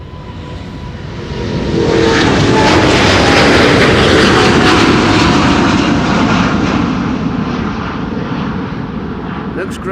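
A nine-year-old Airbus A350 jet takes off from runway 36L Polderbaan at Amsterdam Schiphol, its loud, broad engine roar swelling in over the first two seconds and holding steady and close before easing slightly as it climbs away.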